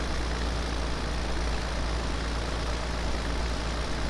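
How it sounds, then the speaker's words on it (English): A heavy tractor engine strains in Farming Simulator 17 while working rough, unlevel ground on a farm. The low, steady diesel drone sounds close and loud and holds without a break, with no speech. "the tractor is definitely struggling"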